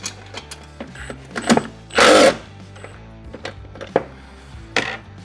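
Power tool loosening the bolts and nuts on a Dach Apollo BA CartRack bike rack mount: a few short bursts of whirring and clicking, with one louder, longer buzz in the middle, set against a quiet background.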